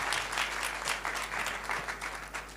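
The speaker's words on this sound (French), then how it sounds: "Applaudissez pour la dame, s'il vous plaît." Audience applause after someone speaks, a brief patter of clapping at moderate distance, fairly faint and uneven, with no talking over it.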